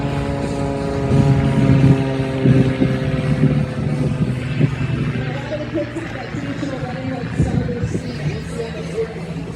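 A 1984 factory-built, unmodified biplane flying an aerobatic display at the Ocean City, Maryland air show, its propeller engine a loud, steady droning hum with layered harmonic tones throughout, swelling slightly early on.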